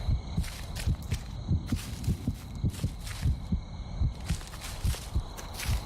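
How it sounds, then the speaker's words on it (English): A looping heartbeat sound effect from the horror video game The Cursed Forest thumps in steady double beats, close and prominent over a faint background hum, with no talk. "Why that heartbeat was doing that."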